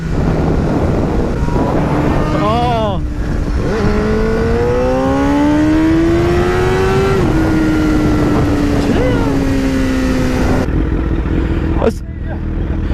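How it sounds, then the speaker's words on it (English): A loud, close motorcycle engine drones and climbs in pitch as it accelerates, over heavy wind rush, with another motorcycle riding alongside and a brief exclamation from a voice. "there's another motorcycle beside me."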